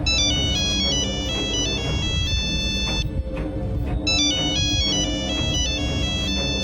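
A cartoon phone ringtone plays a bright, repeating electronic melody, loud and close, in two bursts with a brief pause between them and no voices over it.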